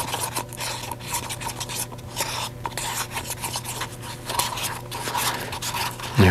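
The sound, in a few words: stirring epoxy resin and catalyst in a cup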